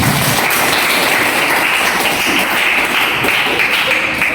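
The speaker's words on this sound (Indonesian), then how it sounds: "Ya, tepuk tangan dulu." Students clapping in a high school economics classroom, a steady, fairly loud and dense round of applause that holds evenly from start to finish with no talking over it.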